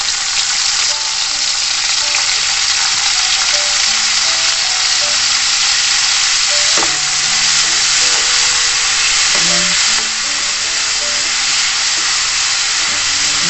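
Tomatoes sautéing in a pan for kinamatisang tanigue, a steady, close frying sizzle with soft hiss that runs without a break, broken now and then by light clinks and stirring.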